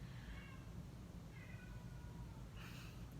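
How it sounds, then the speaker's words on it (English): A pet cat meows three times at moderate distance, each drawn-out call rising over a steady low hum in an indoor room, with no talking. "I don't know what she's meowing at."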